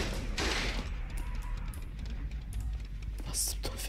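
A generator explodes in the horror video game Dead by Daylight, a loud burst of crackling, rumbling blasts and debris with a sharp bright crack near the end, with a voice briefly audible underneath.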